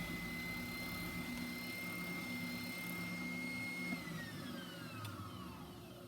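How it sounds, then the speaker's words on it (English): A shop-built circle-cutting jig guides wood against an oscillating spindle sander, producing a steady, loud droning whine with a sustained tonal hum that shifts pitch near the end, with no talking. "I will use this jig that I built for my oscillating spindle sander to cut the final circle"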